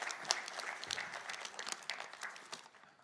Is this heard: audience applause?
yes